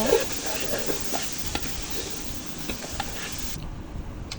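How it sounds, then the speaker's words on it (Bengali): Rice for biryani frying in a pan with spice masala, a steady close sizzle with scraping stir strokes throughout, cutting off near the end. "এখন চাউলটা ভালোভাবে পনেরো মিনিট ভেজে নিব"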